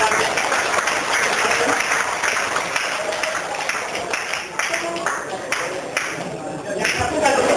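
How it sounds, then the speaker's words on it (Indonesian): Applause from a crowd at a martial arts brotherhood reunion and graduation gathering, a continuous wash of clapping that holds steady throughout, with some voices mixed in. "saya beri tepuk tangan untuk kepada beliau yang membesarkan kami"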